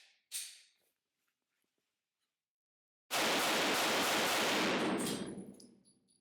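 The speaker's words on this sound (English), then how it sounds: "Now we're going to shoot the HK VP9SK." An HK VP9SK 9mm pistol fires one sharp report, then after a pause a loud, overwhelming burst of shots rings out and fades slowly. It is heard close up at a range, with no speech.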